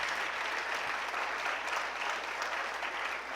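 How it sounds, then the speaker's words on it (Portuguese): A church congregation applauds during a Sunday evening service, a steady, dense wash of clapping that fills the space evenly from start to finish, with no voices standing out. "Eu acho que você poderia aplaudir o Senhor aí onde você está"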